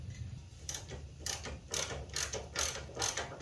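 A hand ratchet snugs a lower control arm nut on a Nissan 350Z during ball joint and bushing work, giving several quick bursts of clicking pawl strokes in steady rhythm, close and fairly quiet, with no talk.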